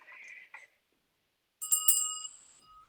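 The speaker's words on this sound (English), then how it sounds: "Ringing the angel bell." A small angel bell rings with several bright, sustained tones that linger and fade, preceded by a brief soft sound, in a quiet room.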